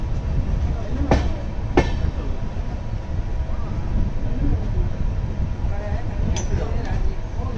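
The Kirandul Express, train 18551 from Visakhapatnam, rumbles loudly on its rails as a constant low roar heard from inside, with a couple of sharp metallic squeals and background voices.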